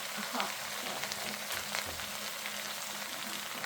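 Vegetables frying in a pan for a quick South Indian curry give a steady, close sizzle while they are stirred, with a few soft scrapes and no talking.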